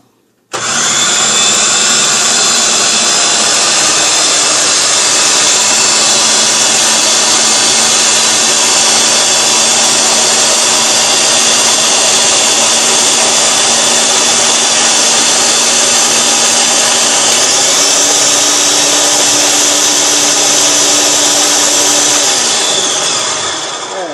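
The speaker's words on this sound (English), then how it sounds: "Put this in my processor." A food processor whirring steadily at close range for over twenty seconds while preparing banana nut bread, a loud continuous motor drone whose pitch shifts slightly partway through before the unit cuts off.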